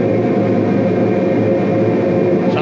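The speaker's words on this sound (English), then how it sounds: "Sounds like they're actually running" Machinery drones steadily in the boiler room of the USS Alabama battleship, a loud, dense, continuous low rumble with a mechanical hum and no pauses.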